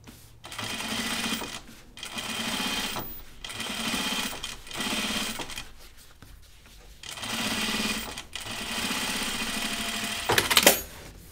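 Sewing machine topstitching two rows along the yoke seam of a pair of jeans, running in five or six even bursts separated by brief stops, close up, ending with a short clatter.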